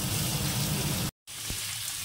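Potato pieces frying with nigella seeds in a pan, a dense continuous sizzle up close that cuts out briefly, then returns a little quieter.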